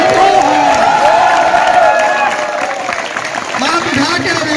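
A college cultural program crowd at an Ayurvedic medical college claps and cheers loudly, a dense roar of applause with whoops and voices mixed in, tapering slightly toward the end.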